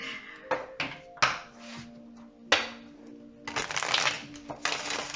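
Tarot cards being shuffled in a pick-a-card reading, a series of close, crisp riffling bursts and soft flutters that come in irregular clusters, with short pauses between handfuls.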